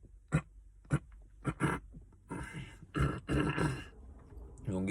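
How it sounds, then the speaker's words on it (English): A person clears their throat with several rough, guttural bursts close to the microphone, a couple of sharp hacks followed by longer raspy rumbles, with no words spoken. "Let me clear my throat."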